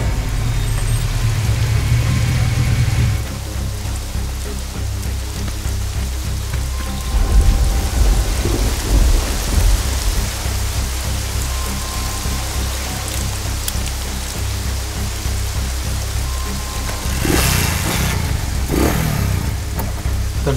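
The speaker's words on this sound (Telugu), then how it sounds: "ఇక్కడ బాగా వర్షం కురుస్తోంది" Heavy rain pours in a continuous loud hiss, with low rumbling thunder rolling underneath and a couple of sharp crackling bursts near the end.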